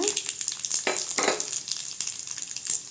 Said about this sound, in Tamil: அடுத்து கடலைப்பருப்பு சேர்த்துக்கலாங்க. காஞ்ச மிளகாய் சேர்த்துக்கலாங்க.